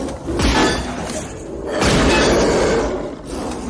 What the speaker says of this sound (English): The shots rang out